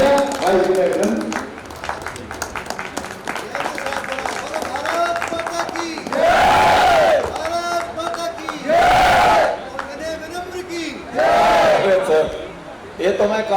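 Audience applause and crowd cheering for a singer at a patriotic song performance, three loud bursts rising over a noisy crowd with talk in between.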